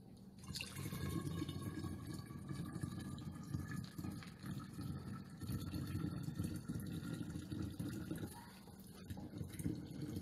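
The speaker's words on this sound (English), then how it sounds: "while the syrup's still a little warm, we're going to fill her up" Thick, still-warm dandelion syrup pours steadily into a bottle through a funnel, a continuous gurgling rush with no pauses and no talking.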